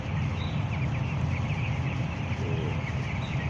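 Broiler chicks at fourteen days old fill a poultry shed with a steady, dense chorus of soft peeping and clucking, close and continuous throughout, over a constant low hum from the shed's ventilation.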